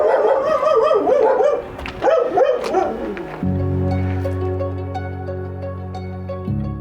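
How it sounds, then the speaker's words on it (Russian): Several dogs bark repeatedly, loud and near, with yips and whimpers at the doorstep of a house in the village of Nuzal, later joined by a steady droning hum. "Потому что там собаки."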